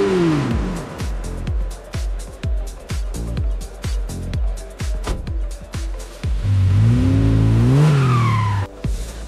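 An AI-generated car engine revs loudly and continuously, with rapid gear-like pulses and rising, sweeping whines toward the end, close and dominant throughout.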